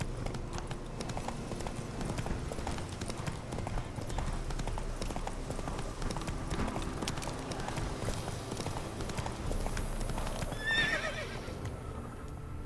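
Roach, a horse in The Witcher 3, gallops in a fast, rhythmic stream of hoofbeats over ambient game sound, with a whinny near the end.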